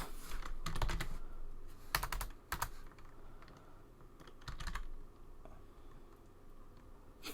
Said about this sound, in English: Going to hit a random letter on my keyboard.